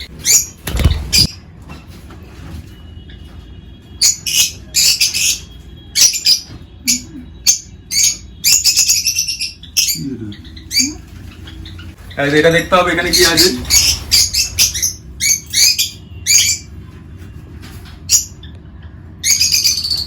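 Lovebirds in a breeding colony give sharp chirps and squawks in scattered bursts, mixed with knocks and handling noises as nest boxes are opened, while a person speaks briefly.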